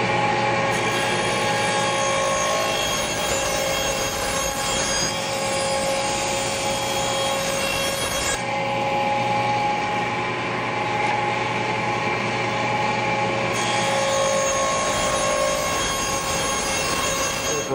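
A saw cutting through a wooden box lid, giving a continuous, loud, even rasping drone that holds steady for the whole stretch with only brief shifts in tone.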